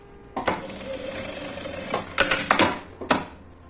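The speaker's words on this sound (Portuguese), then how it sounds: "agora eu vou costurar esse tecido na parte principal" Sewing machine stitching fabric onto the main piece of a handmade craft project, a mechanical whirring run punctuated by sharp clacks and ratcheting knocks near the end, close and fairly loud, without talking.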